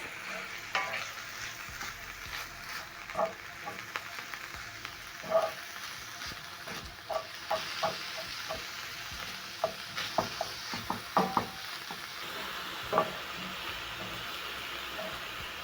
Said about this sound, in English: You're going to use your spatula and break down the meat as it cooks.